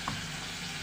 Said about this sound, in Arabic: هقلي البتنجان